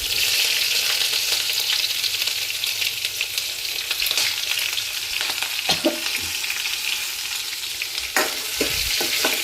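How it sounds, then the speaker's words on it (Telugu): Green chillies and ginger pieces frying in hot oil, a dense continuous sizzle up close with a few stirring clicks toward the end, no voices. "ఇప్పుడైతే పచ్చిమిర్చి, అల్లం ముక్కలు వేస్తున్నాను."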